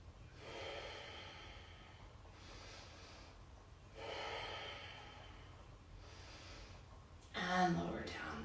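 Slow, deep yoga breathing during a gentle flow class: about three to four soft, airy inhale-exhale cycles, close and unhurried with quiet pauses between, ending in a louder rustle.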